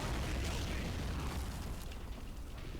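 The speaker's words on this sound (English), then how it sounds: "that was the cannon off the tank." A tank cannon fires in the Men of War: Assault Squad 2 RTS game, a loud, dense booming blast that fills the whole clip with rumbling low end.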